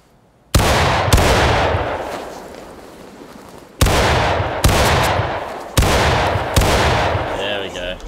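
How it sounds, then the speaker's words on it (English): Musket volley fired by file in the Civil War game War of Rights: five loud, sharp reports crack out one after another, each followed by a long rolling echo, with the gaps between shots shortening. "Ready. Firing by file. Commence firing."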